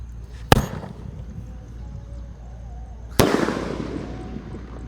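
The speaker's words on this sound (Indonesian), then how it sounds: "Ini 2 kali bledosnya di bawah dan di atas" Two sharp bangs from a double-burst firecracker exploding low then high, the second louder and followed by a crackling, fading tail, with quiet ambience between them.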